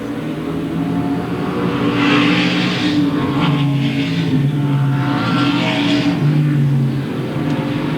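A Chevy Monte Carlo late model race car roars around a speedway's front straightaway and into the turns, a loud sustained engine drone that swells and fades as cars pass, with a distant race-call voice faintly underneath.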